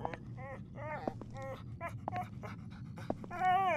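A dog in the horror video game Bodies pants and whimpers close by, with rhythmic breathy pants and brief high whines repeating over a low game ambience.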